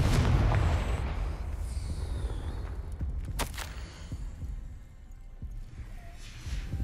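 A Confringo blasting curse explodes in the Hogwarts Legacy video game, a deep rumbling boom that starts loud and slowly decays into a low roar, with a sharp crack partway through, no talk.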